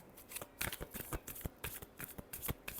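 Tarot cards are shuffled close up in a rapid riffling flutter of quick papery flicks, fairly quiet and with no talking.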